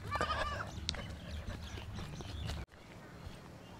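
A young goat gives a short bleat nearby while people talk outdoors and hooves shuffle, before the sound cuts abruptly.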